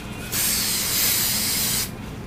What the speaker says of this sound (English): So we'll spray that and that